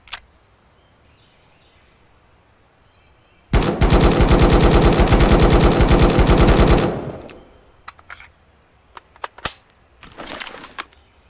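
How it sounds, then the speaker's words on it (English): Automatic gunfire from an MP5 and an M4 in the shooter game Road to Vostok: one loud sustained burst of rapid shots lasting about three seconds, then scattered single shots and short bursts, with no talk. "And now we're gonna try the MP5 and the M4."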